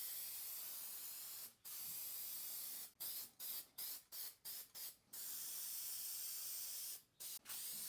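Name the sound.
spray painting Jeep rock sliders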